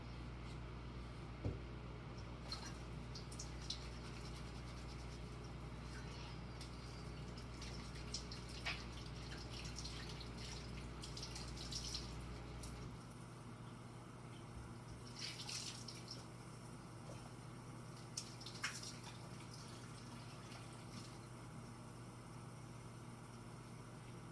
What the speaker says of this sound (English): so I'm gonna wash my hand properly